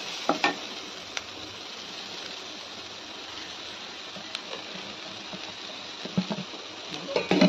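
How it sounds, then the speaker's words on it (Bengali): Vegetables lightly frying in a pan before flattened rice goes in, a steady soft sizzle with occasional sharp spoon knocks and stirring clatter near the end. "হালকা ফ্রাই করে নিলাম। এটা ভাজা হয়ে গেল।"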